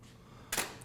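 A camera shutter fires once during a food photography shoot of a cola glass with fake ice cubes, a short bright click burst standing out against quiet room tone.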